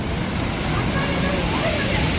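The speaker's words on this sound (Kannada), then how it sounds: "ಕೇಳಿಸ್ತದೆ ಹೆಂಗೋ ನೀರು ಸೌಂಡ್ಗೆ ಜೋರಿ." Loud, steady rush of falling water near a temple during rain, filling the whole clip as a dense, continuous roar with no breaks and no clear voices.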